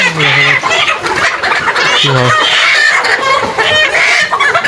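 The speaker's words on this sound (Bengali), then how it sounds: "এখানে প্রায় চোদ্দ মুরগি আছে" Around fourteen chickens cluck and squawk together at close range, loud and continuous with overlapping calls.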